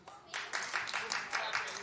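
A studio audience at a daytime television talk show breaks into a short, scattered round of clapping that starts abruptly and carries on steadily for under two seconds, close and moderately loud.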